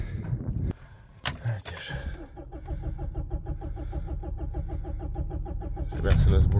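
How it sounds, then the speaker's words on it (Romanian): A backhoe loader's engine turns over and catches, settling into a steady, rhythmic diesel idle close by, with a revving burst at the end and people talking over it. "Trebuia să las bujia, dar hai că a pornit."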